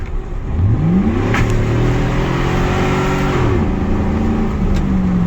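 A 2006 Chevrolet Silverado pickup drives down the road from inside the cab, its engine droning loud and steady as the revs rise and shift through gears.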